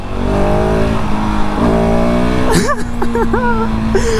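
A 2019 KTM 690 SMC R supermoto accelerating on a road: a loud, close single-cylinder engine note rising in pitch, with rumble and wind throughout and a rider speaking over it.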